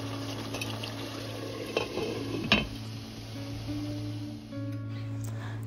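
Potatoes and water being stirred in a cooking pot, with soft metallic scrapes and a couple of utensil knocks against the pot over a steady kitchen hum, no talking.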